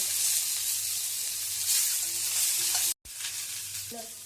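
Ingredients for spicy misal sauté in a hot pan with a steady, bright sizzle and stirring, broken by a brief pause before the frying resumes.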